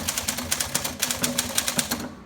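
Brisk typing on a 1958 Tower Challenger manual typewriter set on a slightly rattly table, a rapid run of sharp close keystrikes in an even rhythm, ending abruptly.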